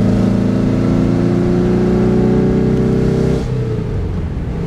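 Loud close engine of a 1963 Porsche 356 B T6 Cabrio, power-boosted to about 160 hp, revving under acceleration with a rising droning tone, then the pitch suddenly drops as it shifts or eases off.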